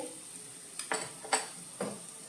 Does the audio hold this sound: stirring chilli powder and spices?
yes